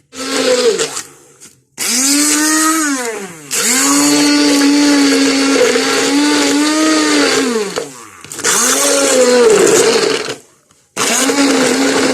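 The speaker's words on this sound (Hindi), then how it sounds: "तो अब हैंड ब्लेंडर के साथ इसको मैं" A hand blender whirs through orange juice with a little water, loud and close, running in several long bursts with rising and falling pitch and short pauses between them.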